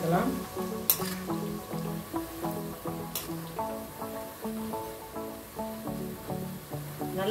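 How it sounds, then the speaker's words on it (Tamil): Diamond-shaped chips bubble in hot oil and are gently stirred, a steady crackling fry under louder background music with a few sharp clinks. "இப்போ நம்ம லைட்டாக கலந்து விட்டுக்கலாம்."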